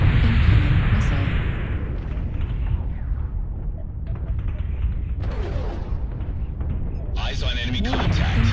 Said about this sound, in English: Artillery strike online. Warning. Incoming missile.